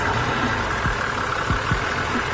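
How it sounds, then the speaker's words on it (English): A Nissan Z31 twin turbo engine idles with a steady, rough rumble and a few low thumps, loud and close with no talk over it. "the mat is disconnected right now, and it's idling fine"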